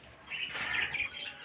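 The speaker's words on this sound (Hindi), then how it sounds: "ये हमारे पास है कॉकटेल, वाइट में है और ग्रे कलर में" Bright, high cockatiel chirps and twittering calls repeat rapidly for a moment, fairly close, over faint background noise.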